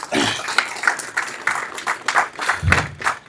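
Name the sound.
audience applause for Gollahalli Prabhakar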